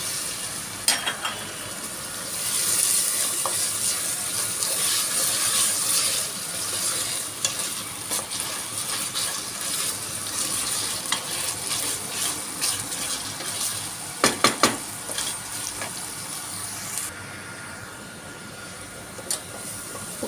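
Lentils frying in a pot for an Anatolian soup, a continuous close sizzle with scraping stir strokes throughout, plus a brief cluster of sharp clinks near the end.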